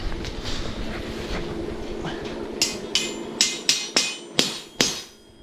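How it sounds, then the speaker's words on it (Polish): A hammer strikes welded rebar in a house foundation reinforcement cage, beginning with scattered taps and then landing seven sharp, ringing metallic blows close by at a steady rhythm. "Że po uderzeniu młotkiem puszczają."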